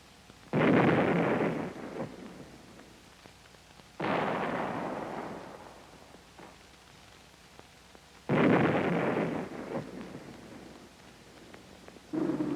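National Guard 105-millimeter howitzers fire in three heavy booming reports with long rumbling decays, spaced several seconds apart, plus a fourth shot starting at the end, loud and alone without voices.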